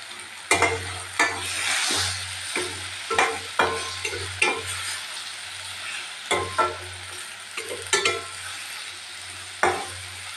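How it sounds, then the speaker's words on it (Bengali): Ground spices soaked in a little water being stirred and sautéed in a pan for a shrimp dish, with repeated scraping strokes over a steady low sizzle, close and alone without talk. "এটাকে কষিয়ে নিয়ে তারপরে আমি আবার ফিরে আসি।"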